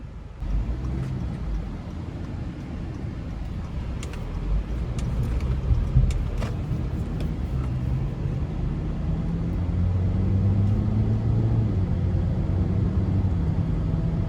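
A 2020 Acura TLX 2.4 cruises along the street, a low steady rumble of engine and road noise that swells gradually, heard from inside the car with no talk.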